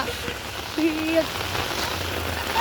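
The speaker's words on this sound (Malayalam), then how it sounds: "ഇവിടെ ഫുള്ള് മഴയാണ്" Steady rain pours down in a constant wash of noise, with a few faint tonal sounds in the background.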